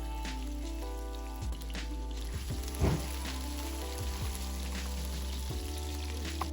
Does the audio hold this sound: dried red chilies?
yes